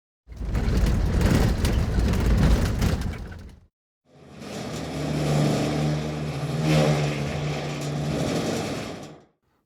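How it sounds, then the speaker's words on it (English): Video-game tank engine with looped metal rattles, first a dense rough roar, then a brief cut to silence, followed by a smoother tonal engine hum with rattling layered over it, close and loud. "These tank rattles follow a similar idea, with a fast and slow variation that gets switched out depending on the speed of the tank."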